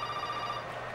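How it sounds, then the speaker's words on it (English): A telephone ringing in the survival horror game Resident Evil 7, a steady electronic bell tone held throughout, fairly quiet with no voices over it. "answer the phone"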